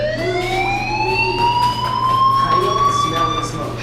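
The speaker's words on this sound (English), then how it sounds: "do you hear that fire alarm?" Fire alarm in the video game Life is Strange wails continuously, a loud tone that slowly rises and falls in pitch over a faint background hum.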